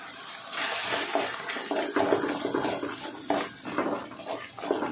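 Water is poured into a pan of tomatoes frying in oil with rasam powder for tomato rasam, a steady splashing, bubbling rush that holds for the whole stretch, close and fairly loud, with no voices.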